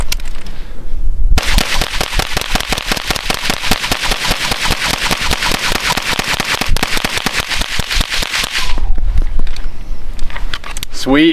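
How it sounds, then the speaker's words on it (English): A pistol-caliber carbine, the CZ Scorpion or B&T GHM9 9mm, empties a full magazine in a long rapid string of sharp, evenly spaced shots lasting about seven seconds, loud and close, with a brief spoken word afterward. "So let's do a mag dump."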